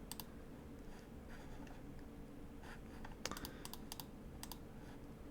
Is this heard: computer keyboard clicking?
yes